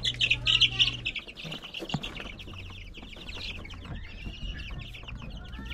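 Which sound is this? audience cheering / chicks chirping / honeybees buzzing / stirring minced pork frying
chicks chirping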